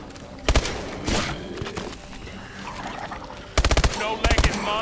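MP11 gunfire in Call of Duty Advanced Warfare Exo Zombies, two quick bursts of loud rapid shots separated by a stretch of game noise, with weaker shots in between.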